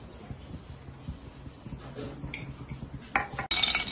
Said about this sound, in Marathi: गावरानी तूप टाकायचं 1 चमचा।